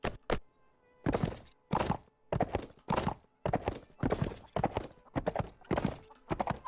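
Horse hooves clopping in the Mount & Blade Warband medieval video game, a close, quick run of crisp hoofbeats in a steady galloping rhythm with short gaps.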